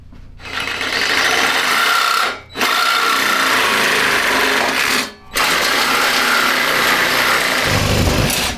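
A power tool cutting through a metal go-kart frame behind the seat, a loud steady whining grind that runs continuously with two brief pauses, close up and without talk.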